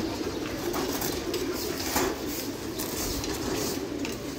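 Pigeons coo in a home loft, a low soft cooing mixed with a steady background hiss, fairly faint and without clear talk.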